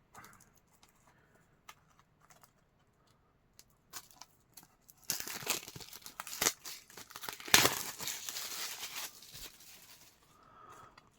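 A Blu-ray case is unwrapped. After a few faint taps and handling noises, a burst of close plastic crinkling and tearing builds up and then fades to quieter rustling.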